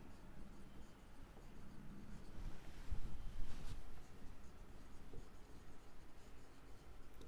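A pen writes out a Class 10 maths answer on CGST charged by a dealer, making soft, continuous scratching strokes on paper at close range, faint and steady, with a slightly busier stretch in the middle and no voice.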